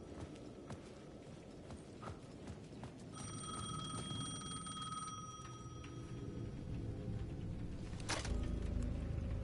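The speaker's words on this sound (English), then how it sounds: "The payphone at the edge of the plaza was ringing again." A payphone at the edge of a plaza rings in bright repeated electronic trills, fairly faint against a low rumbling background, before a deeper noise builds near the end.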